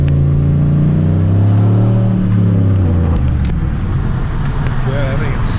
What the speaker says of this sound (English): This G8 GT sounds absolutely amazing.